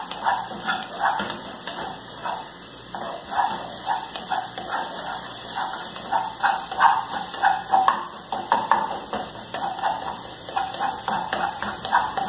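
Garlic sizzling in a hot pan while it is stirred until golden for a simple home lunch, a steady close frying hiss with soft scraping clicks through the whole stretch.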